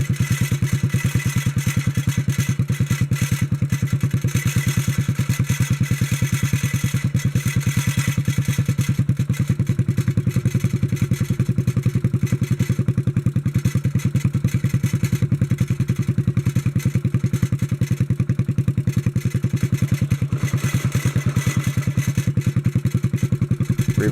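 A 1957 Bolens garden tractor engine runs at full speed, giving a steady, moderately loud throbbing drone with a faint clattering edge that holds unchanged throughout, with no voices.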